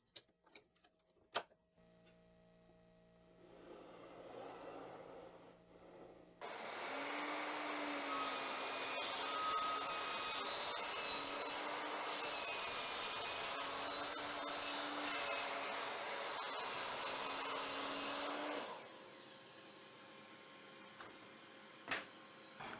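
A power saw or router runs on a track cutting 10 mm plywood for a router jig, with a steady loud whining roar lasting about twelve seconds and faint workshop clatter before and after.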